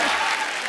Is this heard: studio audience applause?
yes